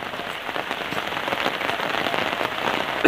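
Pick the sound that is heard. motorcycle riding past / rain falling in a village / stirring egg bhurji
rain falling in a village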